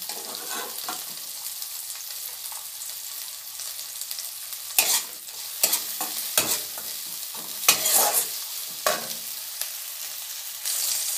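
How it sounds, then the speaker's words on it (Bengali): Onions fry in a pan with a soft continuous sizzle, broken by several sharp scraping strokes of a spatula stirring them, loud and close. "পেঁয়াজটা ভাজা ভাজা হয়ে গেছে"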